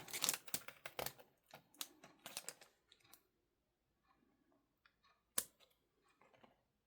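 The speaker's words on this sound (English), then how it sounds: "Let's maybe just cut down this row here." Scissors snipping along a row of paper journal tags, a run of close, crisp cuts in uneven rhythm, then a quiet pause with faint paper rustling and one more sharp snip.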